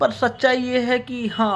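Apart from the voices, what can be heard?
No everyday noise stands out behind the speech.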